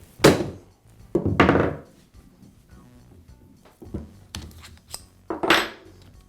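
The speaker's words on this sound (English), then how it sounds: "Now I'm going to quickly strike the Allen wrench with a mallet." A mallet strikes an Allen wrench set in a Makita hammer drill chuck, giving a few sharp metallic knocks, each one distinct and close. Softer clinks and handling sounds fall between the knocks.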